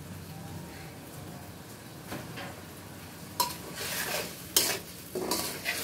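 Spice paste for a Bengali catfish (shing maach) curry being stir-fried in a pan, with soft sizzling under scraping spatula strokes and a few sharp clinks of utensil against metal toward the end.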